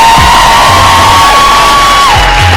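A crowd at a ballroom competition cheers loudly and continuously, with whoops, bellowing shouts and a sustained high whistle or yell riding over the roar.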